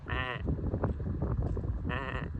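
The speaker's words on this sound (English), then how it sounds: "The sheep's not gonna move." A sheep standing on a narrow path bleats twice at close range, with long wavering cries at the start and end over a rumble of wind and ambient outdoor noise.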